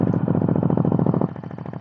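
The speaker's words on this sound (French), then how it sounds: "Donc un ralenti vraiment très bruyant." Stock-exhaust Ducati Hypermotard 950 motorcycle idling close by, a loud, lumpy, rapid throb that pulses steadily before easing slightly in the final half second.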